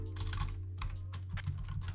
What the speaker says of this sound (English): Typing with this microphone is awful.